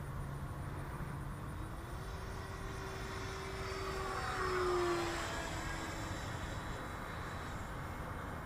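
A Freewing Stinger 90 radio-controlled model jet passes overhead, its faint, steady ducted-fan whine rising and swelling slightly toward the middle before easing off, heard from a distance outdoors with no voices.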